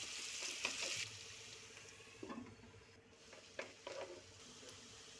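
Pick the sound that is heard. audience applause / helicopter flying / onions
onions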